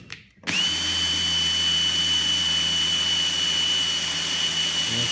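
A Panasonic EY7950 18V cordless drill spins up after a brief silence and runs steadily in reverse, a loud, close, sustained high whine that holds level to the end.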